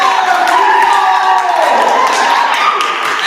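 A game-show studio audience claps and cheers to vote for Team Bull, a loud, dense mass of applause and shouting that holds steady for about three seconds and fades slightly at the end.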